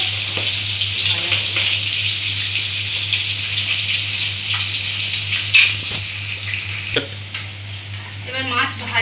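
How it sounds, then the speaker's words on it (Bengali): Pieces of katla fish frying in hot oil in a pan, a loud, continuous close sizzle with occasional scrapes and clinks of a utensil, heard alone without talking. "আর আমাদের তিনজনের মাছটা ভাজা।"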